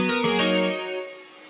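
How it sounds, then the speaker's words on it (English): A chorus effect built from several summed delays thickens a sustained pitched tone, which starts with a few bright attacks and then fades out gently over about a second and a half. "kind of a chorus effect, which takes a bunch of delays and then adds them up together"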